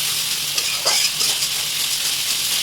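Salt, turmeric and chili powder fry in a pan, a short, steady bright sizzle heard up close with a slight stir partway through and no voices.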